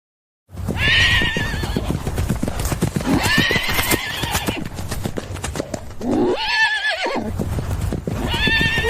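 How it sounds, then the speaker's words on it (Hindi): Fairy-tale horses clip-clop steadily with rhythmic hoofbeats while repeated whinnies and neighs rise over them, loud and close. "ये हम परियों के घोड़े हैं।"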